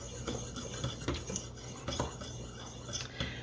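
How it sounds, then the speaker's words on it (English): A utensil stirs salt into flour in a bowl for buttermilk biscuits, producing soft, repeated scraping and clinking strokes at close range with no talking. "I'm going to go ahead and stir that up here. I'm just going to combine it with the flour."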